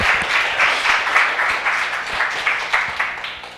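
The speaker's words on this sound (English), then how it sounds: "Give some applause for Leonardo Laguna" A conference audience applauds a speaker about to present on the Vult language for audio applications, dense sustained clapping from a full room that swells in waves over a few seconds.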